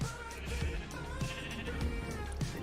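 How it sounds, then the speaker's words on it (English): Sheep on a video game farm holding eighteen animals bleat repeatedly in overlapping calls, several near and loud, with steady background game ambience. "This is a sheep farm. We got 18 sheep in here."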